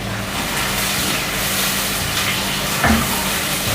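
Chopped medium onion frying with cumin in a pan while being stirred, a steady broadband sizzle throughout with a brief louder clatter near the end.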